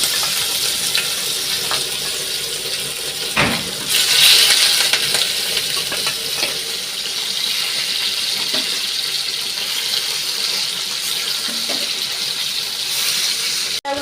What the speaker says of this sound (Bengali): ইলিশ মাছটা তেলে একটু ভেজে নেবো হালকা করে।